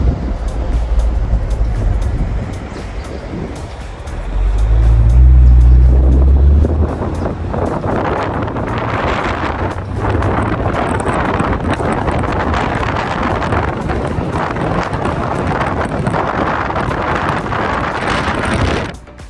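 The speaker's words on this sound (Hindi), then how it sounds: "हवा के प्रेशर की वजह से कार के अंदर काफ़ी शोर होता है।" Loud, continuous roar of wind rushing around a Corvette C8 Stingray moving at speed, heard inside the car, with road rumble underneath and a brief deeper swell early on.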